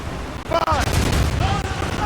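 Ship cannons fire in Assassin's Creed Rogue during a naval battle, a quick burst of booming shots with rumbling low end while shouted voices are heard amid the barrage.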